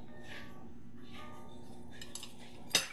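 A metal spoon scrapes and taps quietly while scooping the soft flesh out of a baked potato, with a few faint scraping strokes and a brief sharp clink near the end.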